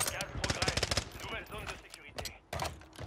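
Rapid automatic gunfire bursts from the video game Warzone 3 crackle close and loud, mixed under excited talk from players.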